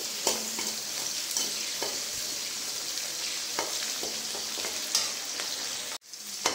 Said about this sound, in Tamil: இப்போ இந்த வெங்காயம் நல்லா வதக்கி விட்டுக்கலாம்.